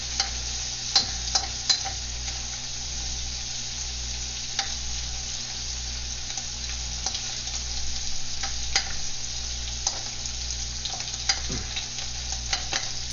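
Shrimp sizzling steadily in a hot pan while being stirred around, with a constant frying hiss and occasional scraping clicks throughout, no talking.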